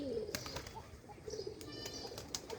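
Pigeons coo softly in a loft where Giribaz and other pigeons are kept, low murmuring calls repeating under steady background noise, with a few brief flutters.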